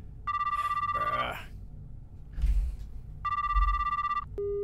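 Telephone in a video game ringing unanswered: two long electronic ring bursts separated by a pause, close and clear, with a brief click at the end and some talk between rings.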